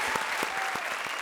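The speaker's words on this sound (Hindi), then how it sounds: "जोरदार तालियां रोहित और राजीव के लिए।" Loud studio audience applause on a Hindi comedy show stage, dense and steady clapping filling the short stretch with no pauses.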